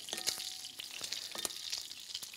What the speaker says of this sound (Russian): Равномерно перемешаю салат.